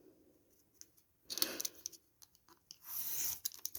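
Scissors cut through a paper envelope, a few faint close snips and crisp paper rustles in a quiet room with no talk.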